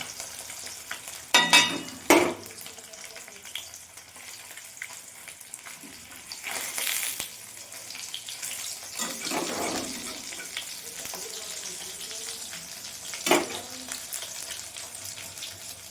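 Nigella seeds (kalo jeere) drop into hot oil left from frying fish in a home kitchen. Several sharp sizzling bursts flare and fade, separated by quieter stretches of faint crackle and stirring.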